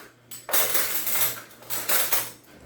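Metal spoons being pulled out and clattering together in a home kitchen, several bright clinking bursts close by with brief pauses between them.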